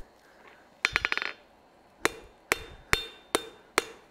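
Hammer blows on metal over an anvil at a live forging demonstration: a quick flurry of about eight ringing strikes, a pause, then five evenly spaced sharp clanks, close and loud with no talk.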